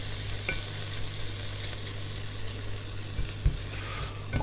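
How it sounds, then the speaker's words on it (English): Vegetables for a crustless quiche fry in a pan with a steady, close sizzle, broken by a few light stirring knocks; nobody speaks. "So that they're not cooked, they're not brown and fully cooked, but they have got a little bit colour in them"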